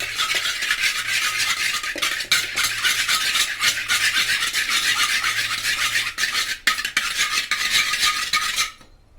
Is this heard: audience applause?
no